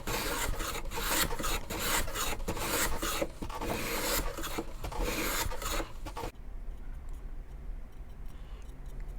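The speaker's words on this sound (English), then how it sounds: "it's absolutely essential that we skim off all of that surface to make sure we're down to bare wood" Pre-finished ukulele wood being skimmed down to bare wood gives rapid, rhythmic rasping strokes, close and loud, that stop abruptly near the end and leave a quiet room tone.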